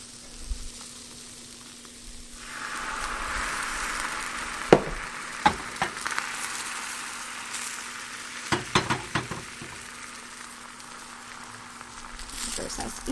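A tamagoyaki egg omelette frying in a pan at home, starting as a soft hiss that swells into steady sizzling with sharp clicks and scrapes of a utensil, close by, with a steady electrical hum underneath.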